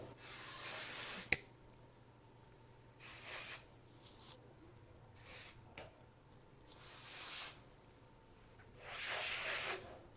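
Dry shampoo sprayed onto hair in close, hissing bursts, about five separate sprays of a second or so each with quiet pauses between them.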